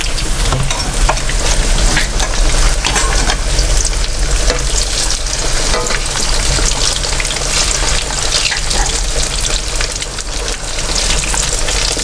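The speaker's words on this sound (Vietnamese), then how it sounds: "Nghe đây dầu nóng." Food frying and sizzling in hot oil for a vegetarian family feast, a loud, steady crackle lasting throughout with occasional stirring and clinks of cookware, no talk over it.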